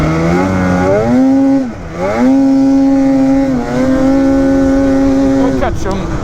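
A 2021 Polaris Assault 850 146 snowmobile pulls away on a New Hampshire trail. Its loud, close engine rises in pitch, dips briefly, then climbs again in a steady high whine.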